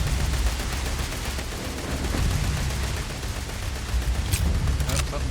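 Gunfire in the space RPG Starfield, a dense stream of loud blasts running throughout under a rumbling game backdrop, with a couple of sharper cracks near the end.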